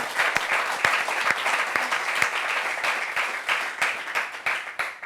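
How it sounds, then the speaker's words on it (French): Lively audience applause at a discussion gathering, many hands clapping in a dense, continuous patter with a few sharper individual claps standing out. "Ça s'applaudit, ça s'applaudit."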